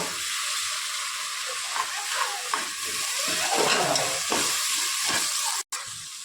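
Chopped tomatoes cooking in a pot for biryani give off a steady hiss and sizzle, with occasional stirring scrapes, heard close at moderate volume.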